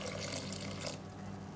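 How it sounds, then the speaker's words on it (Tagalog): Water runs from a tap into a cooking pot of malunggay leaves and baked beans, a soft steady splash that stops after about a second, leaving a quiet kitchen hum. "konting tubig para kumulo siya."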